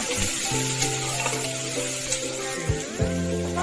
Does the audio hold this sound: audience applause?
no